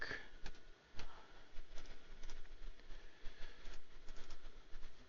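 Trains run in the OpenTTD simulation game, a faint rhythmic rail clatter with scattered clicks and ticks at a low, even level.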